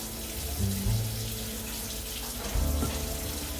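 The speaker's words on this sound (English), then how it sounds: "Let's just strain this broth right off." Vegan ramen broth, almost boiling with vegetables in it, is poured and strained from a pot into a bowl, giving a close, steady watery pour with two louder splashing surges.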